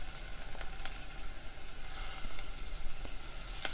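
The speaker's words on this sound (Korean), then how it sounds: "북어채를 먼저 볶아주시면요." Dried pollock strips and onion stir-fry in a pan with a light coating of sesame oil, giving a faint continuous sizzle with soft scattered crackles and no talk.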